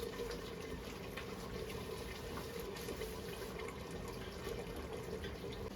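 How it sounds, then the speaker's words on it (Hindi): A steady, dense bubbling roar of water at a rolling boil in a pot on a stove, continuous and fairly close, with no voices. "तो हमारे पानी में आ गया है जी बड़ा अच्छा सा बॉयल।"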